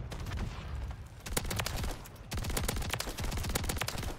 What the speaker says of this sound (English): A fully automatic shotgun should not be able to do this.